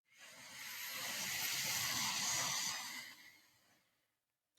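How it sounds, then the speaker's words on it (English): Deliberate slow breath from a podcast host, one long, close, airy exhale that swells gently, holds for a few seconds, then fades away into silence. "Now I'm going to breathe on purpose."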